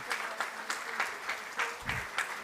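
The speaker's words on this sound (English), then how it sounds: "Let's give a big round of applause to them." Scattered, rhythmic clapping from a small audience in an indoor hall welcoming a decoration team, with sparse individual claps and a low thump near the end; fairly faint and somewhat distant.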